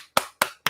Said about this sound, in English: Here's my clap.